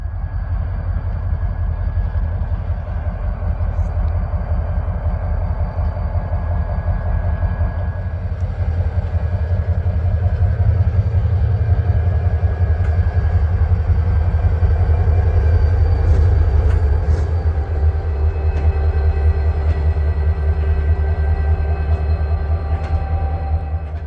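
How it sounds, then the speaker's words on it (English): A passenger train rumbles past close by with a heavy, continuous low roar, steady wheel noise and faint metallic squeals, lasting over twenty seconds. "our passenger train is rounding the bend on approach"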